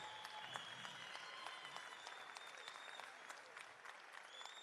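Audience members at an ANC provincial conference in the Northern Cape clap for a former provincial secretary, a soft, steady wash of applause heard from a distance throughout, with faint tonal hum beneath.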